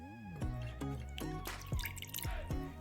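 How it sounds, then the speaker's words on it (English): Water poured into a bowl for homemade slime, a rhythmic run of bright dripping and plopping sounds with rising tones as the bowl fills, close and clear with no talk. "So add some water in a bowl."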